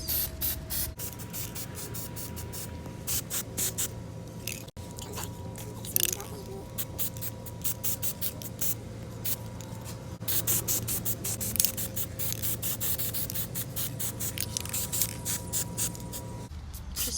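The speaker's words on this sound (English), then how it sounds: "Just be careful with how hard you spray them because they low-key want to fall apart." Gold spray paint hisses onto real roses in a rapid series of short bursts, close up, with brief pauses between them and a person talking intermittently over the spraying.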